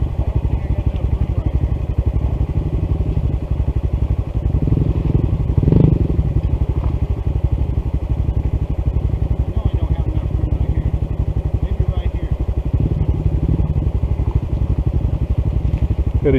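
A Honda CT125 motorcycle engine runs steadily and close by on a mountain road, with a continuous low drone and some clattering over the full length of the clip.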